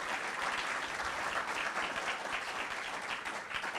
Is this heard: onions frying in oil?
no